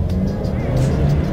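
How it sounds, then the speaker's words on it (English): A 2020 Ford Explorer XLT with its base engine accelerates hard, a loud steady engine and road roar heard from inside the cabin with no talk over it. "let's see how quickly we can get the 2020 Explorer here up to speed."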